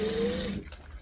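A sewing machine runs a short burst of stitching on backpack lining, a steady close whir for about half a second before it stops, leaving only faint room noise.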